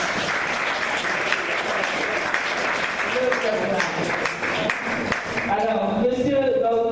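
Steady applause from a seated crowd at a Congolese wedding ceremony, sustained even clapping that runs throughout, with voices and cheering rising toward the end.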